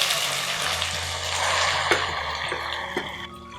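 Goat brain dropped into hot oil with crackling cumin seeds for bheja fry, a loud broad sizzling hiss that settles slightly, with a few soft knocks near the end.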